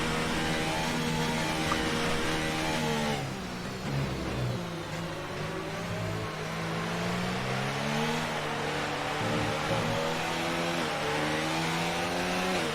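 An F1 race car engine from the F1 2019 game at the Russian GP revs hard and steadily throughout, the high-pitched whine climbing and dipping with gear changes and throttle, loud and continuous with no voices.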